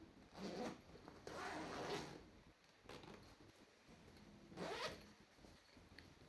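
A zipper on a crochet tool and supplies bag is pulled open in a few quiet, close zips separated by short pauses, with no talking.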